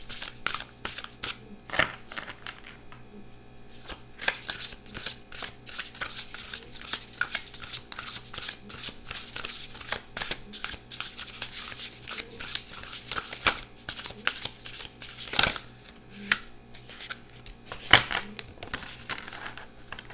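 Tarot cards being shuffled by hand during a reading, a steady papery riffling and flicking with sharp snaps scattered throughout, close and fairly quiet, with no talking over it.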